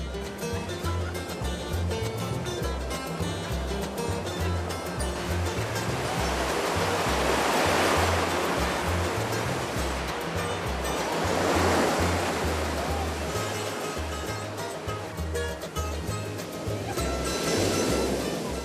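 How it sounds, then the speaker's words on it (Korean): Big ocean waves crashing at a surf beach in El Salvador, a continuous roaring wash of surf that swells into louder breaking surges and fades back again, with a low churning rumble and no talk. "큰 파도가 제게는 해일 같습니다."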